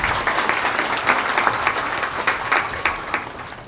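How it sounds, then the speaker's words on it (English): Audience at a Women on Boards cohort launch event applauding, a moderate wash of clapping with distinct individual claps standing out, steady throughout. "Can I have a round of applause for them?"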